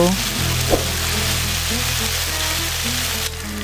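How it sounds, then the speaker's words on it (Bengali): Spice paste for a Bengali rohu fish curry with eggplant sizzles steadily in a pan over a medium gas flame as it is stirred and fried, a loud continuous crackle with a brief scrape of the spoon near the start. "এবারে ভালো মতো নাড়াচাড়া করে মশলাটাকে কিছুক্ষণ কষিয়ে নেব"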